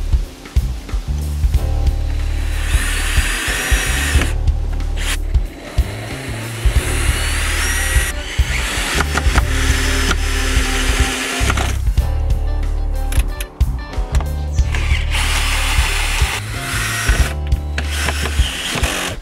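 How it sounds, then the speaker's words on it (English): A power drill drives screws into a wooden feather-edge garden gate, whirring in repeated bursts with short pauses and wood creaks between them, loud and close. "Now it's all ready to be screwed in place."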